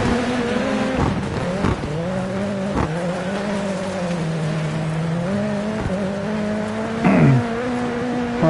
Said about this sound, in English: The engine's not sounding healthy.